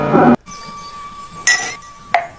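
Glass breaks with a short, sharp crash and then two bright clinks, with a faint steady tone underneath in a quiet room.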